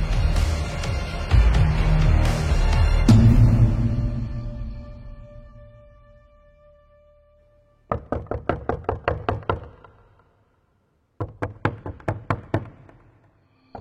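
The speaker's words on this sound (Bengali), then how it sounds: "দরজা ধাক্কার আওয়াজে ধর্মর করে উঠে বসে হিমাদ্রি" Door knocking as a sound effect in a Bengali horror audio story: after a dramatic swell fades to silence, two separate bursts of rapid, sharp knocks ring out, each about eight or nine blows, loud and close.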